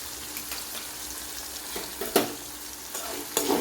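Green chillies and ginger garlic paste fry in oil for a Kerala-style fish curry, sputtering with a continuous close sizzle and a few sharp spatters and stirring scrapes, without any talk.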